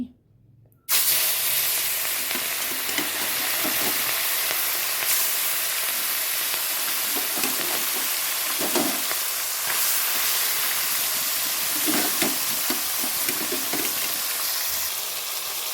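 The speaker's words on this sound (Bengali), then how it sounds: "তেলটাও হয়ে গেছে পুরো অনেক গরম হয়ে গেছে তাই আমি ওলা মাছগুলো দিয়ে দিচ্ছি" Small mourala fish dropped into very hot oil, an abrupt loud burst of sizzling after a brief quiet start, then a dense, continuous crackling hiss with occasional pops and low thumps.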